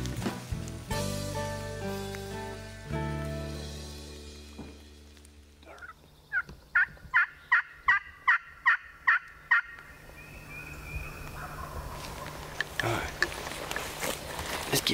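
A Merriam's wild turkey gobbles in a rapid, evenly spaced burst of about ten notes, moderately distant in open country with wax myrtles, after some earlier broadband noise and followed by rustling and movement sounds.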